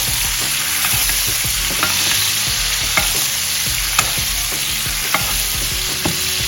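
Steak sears in a hot pan for a quick beef salad, giving a loud, steady sizzle with occasional soft pops and clicks throughout, and no voices.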